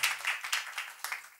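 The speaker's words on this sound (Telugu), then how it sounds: "సో ప్రభునందు చప్పట్లు కొట్టరా" A church congregation claps at a thanksgiving family meeting, a handful of uneven, fairly faint hand claps in loose bursts that fade over a brief moment, with no talking.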